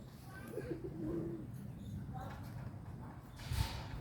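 Homing pigeons cooing softly during a flock exercise flight, a few low coos at middling distance under faint background noise and a bit of speech.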